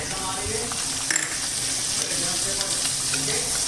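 Asafoetida, ginger and chili frying in hot oil for sandwich masala, a bright steady sizzle with brief spatters and stirring scrapes close by, no voices.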